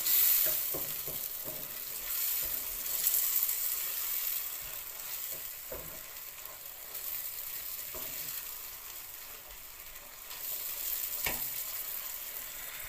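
Jamaican ackee and saltfish fry in a pan with a steady, soft sizzle, punctuated by several light scrapes and taps of a spoon stirring, with no talking.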